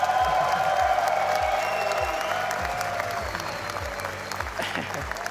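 A large crowd at an RLCS Rocket League esports major cheers and applauds for a team, with dense clapping and shouting under a loud, continuous roar that slowly fades.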